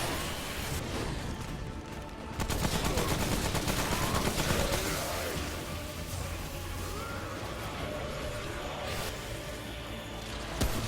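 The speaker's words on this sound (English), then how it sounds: "Keep shooting him from a distance as much as you can to whittle down his health." Sustained rapid gunfire aimed at the Scourge boss in the video game Remnant: From the Ashes, a dense, loud barrage of overlapping shots that carries on without pause and swells in intensity a couple of seconds in.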